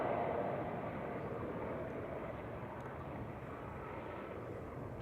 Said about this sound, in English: This is flight 728 for EasyJet, A320neo.